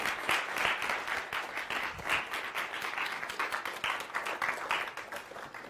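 Lecture audience applauds to welcome novelist Siri Hustvedt, a sustained burst of dense clapping from a hall crowd, fairly loud and even throughout with no talking over it.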